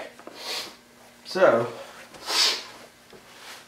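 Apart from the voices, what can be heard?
person sniffing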